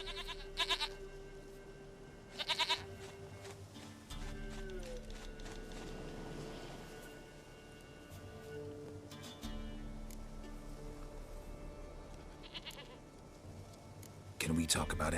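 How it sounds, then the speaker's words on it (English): Goat bleating in The Witcher 3: Wild Hunt, a few short, fairly faint bleats set against game ambience and dialogue. "Goat of mine, dearest, sweetest goat."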